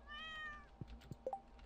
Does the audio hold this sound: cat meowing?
yes